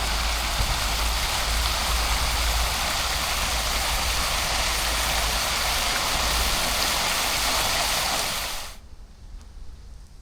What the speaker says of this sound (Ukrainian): Ось такий ось чудовий фонтан.